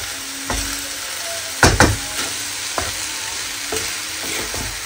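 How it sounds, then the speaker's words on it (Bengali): Food frying and being stirred in a pan while coriander leaves go in and a splash of water has been added, with a steady close sizzle broken by several sharp scraping stirs of a utensil against the pan. "এটা একটু ভাজবো"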